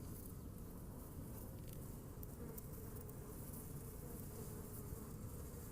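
Honey bees buzzing inside a hive as they build comb, a faint, even drone that carries on throughout with no speech.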